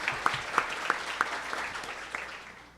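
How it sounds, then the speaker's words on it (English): Audience at a law review symposium gives a round of applause: scattered, fairly sparse claps with a few sharp accents, fading out over a couple of seconds. "Could everyone give Tim Cornell a round of applause?"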